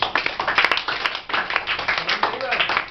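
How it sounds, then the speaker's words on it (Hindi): Students in a classroom clap together in a dense, sustained patter of hand claps lasting throughout, with a few sharper slaps standing out near the start; voices murmur underneath. "ताली बजाओ जरा।"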